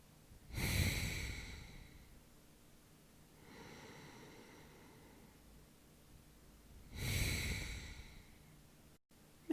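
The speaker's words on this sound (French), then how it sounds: "Laissez aller la respiration." Slow, relaxed breathing during a yoga session: two long, clear exhales about six seconds apart, with a softer, quieter breath between them, close to the microphone in a calm room.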